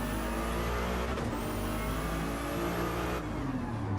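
A Ferrari race car in a racing game pulls out of the pits at Red Bull Ring, its engine droning loud and close with a rising whine as it accelerates, then easing briefly near the end.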